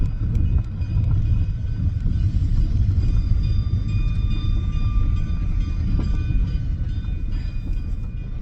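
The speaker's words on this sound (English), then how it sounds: "That's the train just arriving." A train pulls in with a steady low rumble of rolling railcars and faint high squeals from the wheels, loud and continuous throughout, with no talking.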